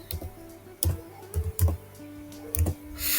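Typing on a computer keyboard: a few separate clacking keystrokes in irregular rhythm, close and clear over a faint steady hum, with no talking.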